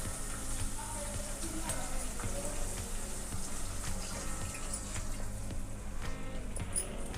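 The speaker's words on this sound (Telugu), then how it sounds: "ఏ కప్పుతో సేమియా తీసుకున్నామో అదే కప్పుతో నీళ్ళు పోసుకోవాలి" Water pours in a steady, continuous stream into a pan of semiya pulao as it cooks, with a soft sizzling wash underneath and no talk.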